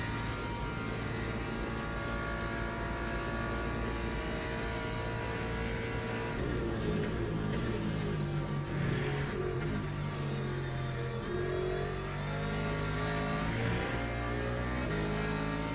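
Ford race car engine in the Le Mans Ultimate sim at Le Mans, a steady loud high-revving drone with a gentle pitch shift midway, running alone without talk.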